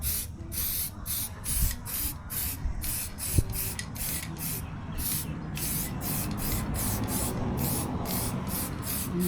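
Close, loud hissing bursts of a spray paint can, short sprays repeated in quick succession with brief gaps between, over a faint background rumble.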